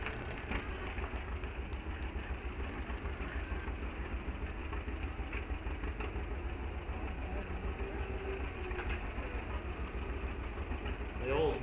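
An old pulling tractor with a hand clutch idles at a pulling league event, its engine a steady, loud mechanical drone with rattling texture, running continuously under a commentator's voice.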